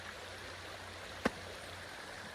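A river on the Pinhoti Trail, running too high to rock-hop across, gives a soft, steady rushing hiss throughout, broken once by a single sharp click partway through.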